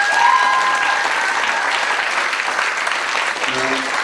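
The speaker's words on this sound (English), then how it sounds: "And a big round of applause," Audience at a London tribute concert applauds loudly and steadily, a dense wash of clapping that holds from start to finish, with a brief faint tone near the end.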